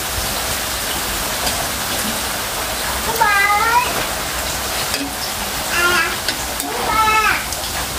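Papaya being stir-fried in a pan for a noodle dish: a steady, rain-like sizzle fills the whole stretch, with a few brief higher vocal sounds rising over it.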